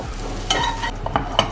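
Grated coconut stirred in a pan over low heat, with soft scraping strokes and a few quick utensil taps against the metal under a gentle, steady sizzle.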